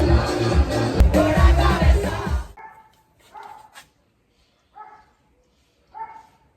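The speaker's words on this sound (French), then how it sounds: "je me suis fait réveiller par le chien que vous entendez en arrière-fond" Dog barking in the background, a few short separate barks spaced out after loud noise fades, fairly faint and distant.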